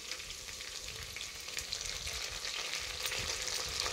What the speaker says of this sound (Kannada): ಪುದೀನ ಆಯಿಲಲ್ಲಿ ಫ್ರೈ ಮಾಡೋದ್ರಿಂದ ಅದು ಫ್ಲೇವರು ತುಂಬ ಚೆನ್ನಾಗಿರುತ್ತೆ